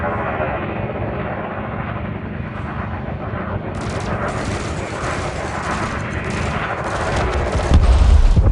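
Rapid multi-cannon gunfire from a spacecraft in the Elite Dangerous space game, a loud continuous rattling burst over engine and ambient game noise that grows heavier toward the end.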